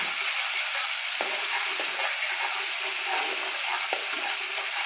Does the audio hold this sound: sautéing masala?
yes